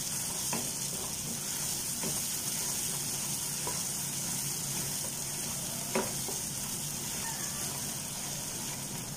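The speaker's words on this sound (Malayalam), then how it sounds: "മഞ്ഞൾപ്പൊടിയുടെ പച്ചമണം മാറുന്നത് വരെ ഒന്ന് ഇളക്കി കൊടുക്കണം." Turmeric powder is stirred in a hot pan while making a Kerala-style beef curry: a steady sizzling hiss runs throughout, with a few soft scrapes of the spoon against the pan and no voices.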